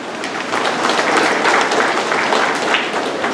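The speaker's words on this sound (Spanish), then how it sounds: "Quisiera que ustedes se den ese aplauso porque también se lo merecen." Loud, dense applause from a crowd at a secondary school graduation ceremony, many hands clapping steadily and close for the whole stretch.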